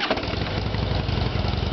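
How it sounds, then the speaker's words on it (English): A 2007 Harley-Davidson Heritage Softail Classic with factory exhaust idles in a low, loping V-twin rumble right after starting, steady and close with no talking. "I'm gonna start it for you and let you hear it."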